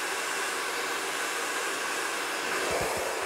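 An electric rotating round-brush hair dryer runs with a steady, close, loud airy whoosh for the whole stretch, a few low thumps near the end.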